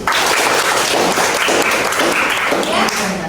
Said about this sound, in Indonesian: Tepuk tangan untuk diri kita sendiri.